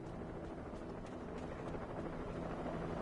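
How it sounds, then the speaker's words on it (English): Helicopters approach in the video game Alan Wake Remastered, a faint, low, steady rotor drone with soft pulsing, distant and unbroken with no talking. "they're bringing out the helicopters by the sound of it"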